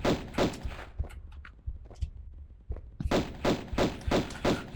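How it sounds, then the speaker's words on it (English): Pistol fire at an Atlantean enemy in the video game Tomb Raider Gold Remastered: a rapid series of sharp, punchy shots in rhythmic bursts, with a brief lull of softer thuds and game noises between volleys, loud and close. "You just want to get a lock on him and take him down with the pistols."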